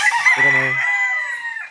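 A junglefowl rooster on the loose crows once, loud and close, a single drawn-out cock-a-doodle-doo with a rising start and fading tail.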